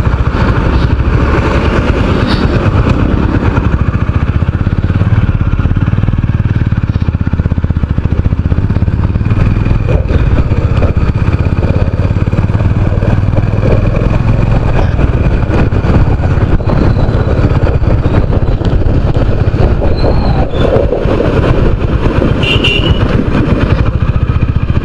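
Motorcycle ride along a road in Vizag, a loud continuous engine drone mixed with heavy wind rush throughout, no clear voices.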